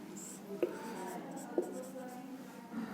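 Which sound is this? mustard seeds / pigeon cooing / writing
writing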